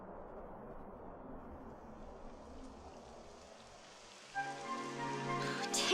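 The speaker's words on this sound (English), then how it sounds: "It would have to go and start raining, wouldn't it?" Rain in the Dragon Quest XI game world patters softly and steadily, and a louder tonal game sound swells in over it near the end.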